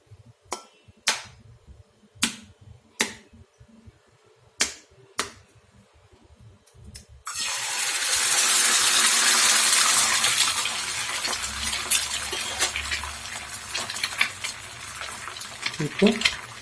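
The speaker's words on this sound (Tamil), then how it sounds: "இப்போ வந்து நம்ம முட்டையை உடச்சி ஊற்றிடலாம்" An egg is tapped sharply several times on a hard edge, then poured into hot oil for a half boil, setting off a loud, steady sizzle that continues with faint clinks.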